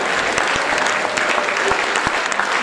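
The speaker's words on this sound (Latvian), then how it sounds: "Ar aplausiem suitu muzikanti!" An audience claps for Suiti musicians, a dense, steady round of applause from a crowd that fills the room, with no talking over it.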